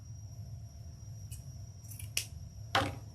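Scissors snip the tail of a ribbon bow short, giving a few quick, close cutting clicks over a low steady hum, with the last cut the loudest.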